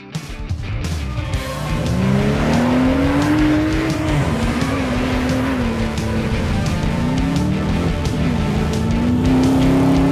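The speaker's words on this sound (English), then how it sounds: "We're doing some test launches here, a perfect warm-up location for everyone." Rally cars doing test launches at a gravel warm-up venue: a loud, close engine revs hard and holds a rising, wavering roar with gear changes and a gritty rumble underneath, continuous for most of ten seconds.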